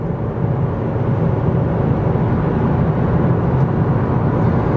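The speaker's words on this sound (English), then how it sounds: "road noise is what you would expect here out of a car in this class" Steady low road noise and tire roar inside a 2026 Nissan Sentra SR sedan cruising at highway speed, a constant broadband rumble with no talk.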